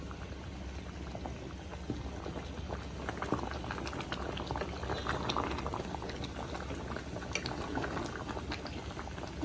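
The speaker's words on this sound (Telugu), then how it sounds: "నీళ్ళు బాగా దగ్గరికి ఎగిరే వరకు ఉంచితే చక్కగా మసాలా అంతా అల్లం వెల్లెల్లి అన్నీ బాగా ఉడుకుతుంది" Mutton curry with ginger and garlic masala boils in a pot, giving a continuous, soft, dense bubbling that stays close and steady with no talking.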